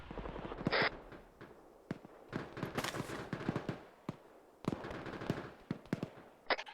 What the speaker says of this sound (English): Somebody's trying to hit me with a mortar again.